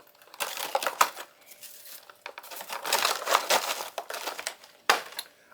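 Freeze-dried hominy and chicken squares packed three to a plastic pouch: repeated crinkling and crumpling plastic bursts, irregular and close, with brief pauses between handling.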